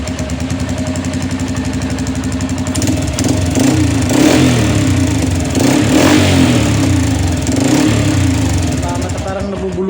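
A motorcycle engine with a fault that makes it choke at high revs, running loud and close with a rough idle, then revving up in uneven surges that falter and sputter, with voices speaking over it.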